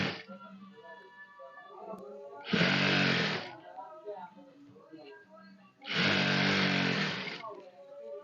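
A sewing machine stitches boys' half pants with piping in two steady bursts of mechanical whirring, each a couple of seconds long, with quieter handling and background noise between them.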